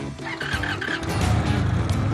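An Indian motorcycle engine revs up, its exhaust note rising into a steady, smooth, fairly loud rumble that holds close by for a couple of seconds.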